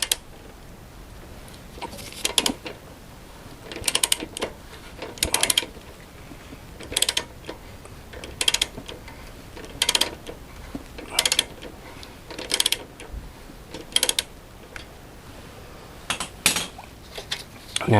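A ratchet loosens a tight bolt on the belt cover of a Harley-Davidson Sportster: close, sharp bursts of metallic clicking repeat in steady strokes about every second and a half, each followed by a short pause.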